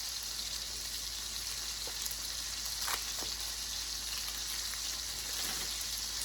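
Burger patties fry in a skillet on their second side, a quiet, steady sizzle with a few soft pops and crackles scattered through, heard alone without voices.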